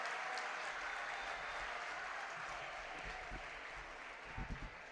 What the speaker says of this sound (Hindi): जोरदार ताली बजा दीजिए